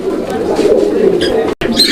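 A cream bar pigeon coos close by in a soft, throaty run of calls, broken by a brief pause before resuming.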